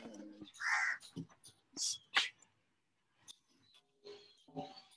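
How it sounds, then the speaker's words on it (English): A crow on a home terrace gives several loud, close caws and rasping calls in uneven bursts, broken by short pauses and softer rustling. "Wow, there's a crow right here on my terrace."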